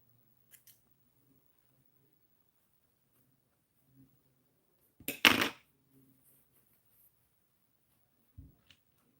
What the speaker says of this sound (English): Let's go ahead and cut our threads.